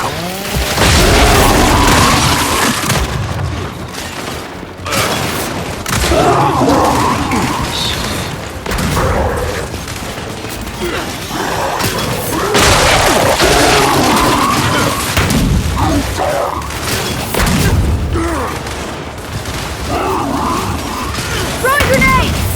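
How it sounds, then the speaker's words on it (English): Grenade blasts in the video game Gears 5 boom repeatedly through a busy battle, heavy low thuds recurring over about twenty seconds amid gunfire and voices talking. "Throwing grenades!"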